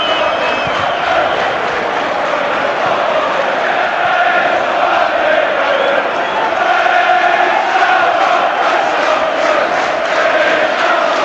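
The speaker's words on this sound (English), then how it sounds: "it was the roar of the crowd that made Carrick alerted to Roy Keane coming from behind him" A packed football crowd at West Ham's stadium during a 2001-02 Premier League match against Manchester United keeps up a loud, continuous roar that swells slightly and never drops away.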